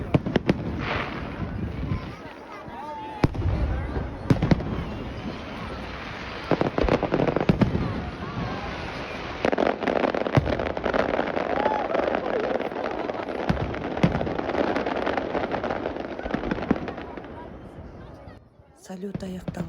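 A New Year fireworks display over Astana in 2024 crackles and booms almost continuously, with dense overlapping bursts and pops fairly close by, while crowd voices murmur underneath until the noise fades near the end.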